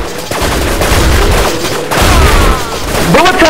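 Slowed-down bullet-time gunfire in a video game, a dense, smeared rumble of stretched shots and booms that stays loud throughout with warbling tails.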